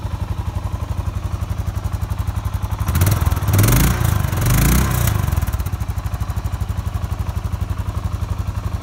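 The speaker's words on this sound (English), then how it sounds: "Very quiet motorcycle." A 2012 Suzuki LS650 Boulevard S40 650cc cruiser motorcycle idles with a steady, even low throb, then is briefly revved louder for a couple of seconds before settling back to idle.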